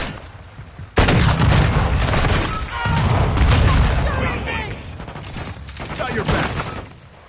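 Heavy gunfire in the military shooter video game Modern Warfare 2: a sudden loud burst of rapid shots and booms that continues for several seconds, dense and close, with shouted voices under the barrage.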